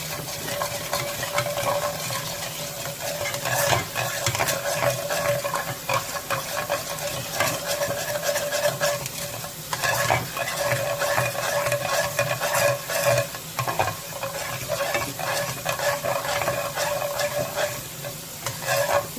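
Beef and shrimp pad thai ingredients stirred steadily in a hot pan, with continuous close sizzling and frying and repeated scraping strokes of the utensil, no voices.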